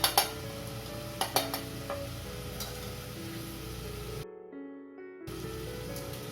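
A spoon clinks a few times against a pan as spice powders go into a Kerala mutton curry base of cooked-down tomatoes and separated oil, followed by a steady low sizzle and stirring noise.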